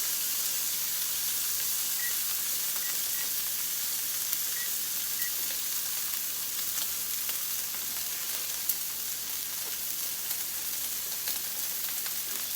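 Thin steaks searing rare in a hot pan give a steady, close sizzle and spitting hiss that holds evenly throughout, with faint occasional pops and no voices.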